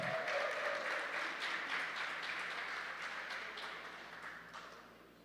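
An audience at a seminar on gender diversity in basic education applauds a speaker, a broad wash of clapping that starts full and slowly fades over several seconds.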